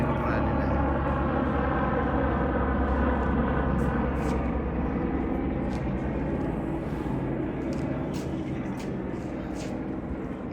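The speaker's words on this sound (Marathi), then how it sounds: "हेलिकॉप्टरचा आवाज येत आहे आपल्याला." A helicopter flies overhead on a road trip, a steady droning engine and rotor rumble holding loud and close for the whole stretch, with people's voices faintly mixed in.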